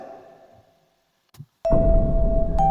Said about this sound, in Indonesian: HP menyala, bunyi berdering silih berganti.